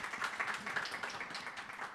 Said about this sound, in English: a huge round of applause for Claire